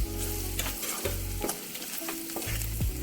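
Coriander powder and cumin powder frying with ginger garlic paste for a gongura prawn curry, giving a loud, dense sizzle with repeated clinks and scrapes of stirring in the pan, with no voice.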